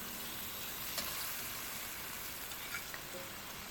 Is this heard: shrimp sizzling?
yes